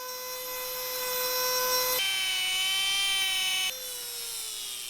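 Wooden handle pieces for a Damascus steel katana being slotted with a power tool, a steady high whine that shifts pitch twice as the cut changes, continuous and close.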